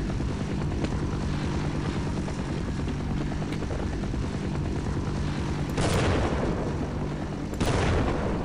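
Helicopter in the video game Half-Life, a steady loud rotor drone filling the whole stretch, with two sharp bursts like gunfire or explosions near the end.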